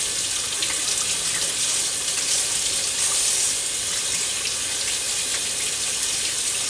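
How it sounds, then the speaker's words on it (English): Tap water pours steadily over a corned beef brisket in a kitchen sink, a loud, constant close-up splashing rush with no pauses. "I'll rinse it off real good"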